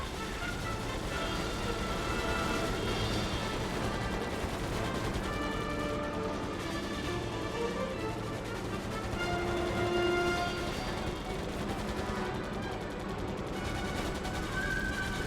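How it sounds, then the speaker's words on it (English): Sustained gunfire and combat noise from the World War II Pacific carrier flight game Air Conflicts: Pacific Carriers, a dense continuous roar of shots and engines holding steady throughout. "Enemy fire."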